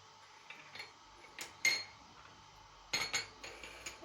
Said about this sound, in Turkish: Tencere kapağımla böyle güzel bir üstten geçeyim onları.